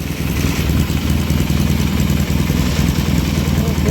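Yamaha motorcycle engine running steadily on a new Boyer Bransden ignition, a close, continuous mechanical idle with some clatter.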